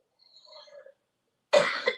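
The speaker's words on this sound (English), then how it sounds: "Sorry, I have asthma, so that's the coughing." A person with asthma lets out a single harsh, close cough after a stretch of near silence broken only by faint, thin tones.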